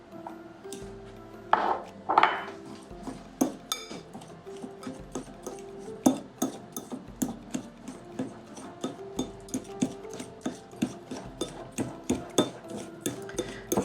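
A utensil stirs cocoa with other hot fudge cake ingredients in a bowl, making a close, steady run of rhythmic clinks and taps against the bowl, with no voices.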